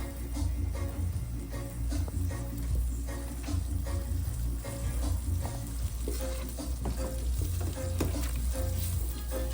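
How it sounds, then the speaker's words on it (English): Butter melts and sizzles in a pan with a close, continuous crackle, broken by a few sharp utensil clinks and stirring sounds. "As soon as my butter is melted, watch the trick."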